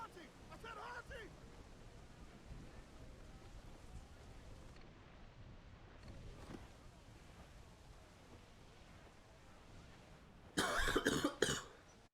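Coughing from a gamer playing Assassin's Creed IV Black Flag, a short burst of loud coughs near the end over steady rain-like noise of a storm at sea, with a brief earlier cough.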